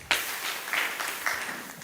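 Applause from a crowd at a ward MCA candidates' debate, a short burst of clapping that starts sharply and fades over a couple of seconds.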